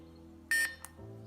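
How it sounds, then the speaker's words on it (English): A single short, bright electronic beep sounds once from a toy thermal detonator prop, followed by a soft click and a low hum shifting pitch. "Then you hear the beep, close it"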